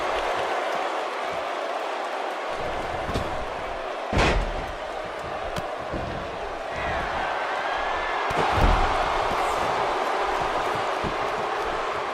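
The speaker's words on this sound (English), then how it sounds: "And there's the cutter, slamming the face to the mat." A wrestler is slammed face-first onto the mat, giving a sharp thud amid a constant crowd murmur; a second impact lands a few seconds later.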